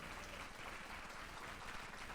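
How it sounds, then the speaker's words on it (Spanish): A church congregation applauding, a steady, even wash of many hands clapping at once, heard faintly and continuously. "Vamos a dar un aplauso fuerte al Señor."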